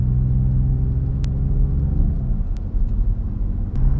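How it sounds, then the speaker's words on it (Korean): A Genesis GV70 engine in sport mode rumbles loud and steady close by, deep and throaty, swelling slightly as it pulls, with no talking. "스포츠 모드로 바꾸고 나니까 확실히 엔진 소리가 더 커지고"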